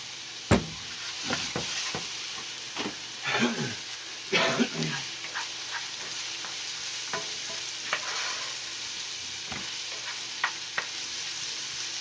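Onions and garlic sautéing in a pan for a moose meat shepherd pie, with a soft steady sizzle under occasional sharp spoon scrapes and clacks, plus a dog barking faintly in the background.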